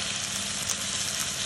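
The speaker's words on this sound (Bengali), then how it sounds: "গাজর, ক্যাপসিকাম সব একসাথে ওইটা দিয়ে দিচ্ছি। দিয়ে একসাথে নাড়ছি" Ground green chilies, carrot and capsicum fry together while being stirred in a pan, a dense, continuous sizzle held close and steady.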